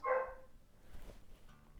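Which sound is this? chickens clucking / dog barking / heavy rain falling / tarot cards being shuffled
dog barking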